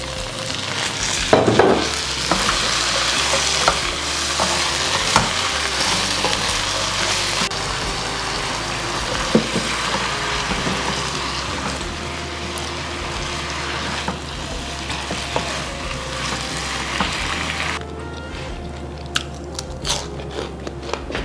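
Broccoli stir-frying in a pan for Mongolian beef, with a loud steady sizzle, scattered crackles and clatter of stirring and tossing that continues throughout at close range.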